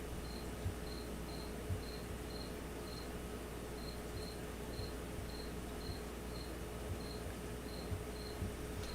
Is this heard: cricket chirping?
yes